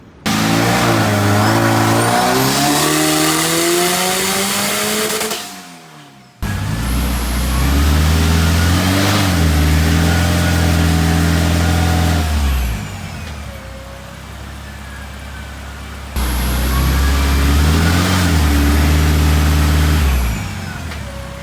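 A turbocharged K24-swapped BMW E30 revs hard on a dyno, engine note climbing in loud sustained pulls with rising harmonics, a brief drop and pause, then further strong runs at close range.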